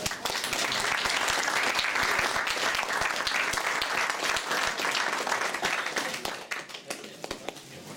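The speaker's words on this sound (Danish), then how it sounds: "Skal vi ikke lige prøve at give dem en hånd her?" Sustained audience applause fills a prize-giving ceremony at a ranking competition in Rønbjerg, dense clapping continuing steadily for several seconds before thinning slightly near the end.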